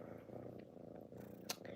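A kitten purrs softly and steadily, close by, with one brief sharp noise near the end.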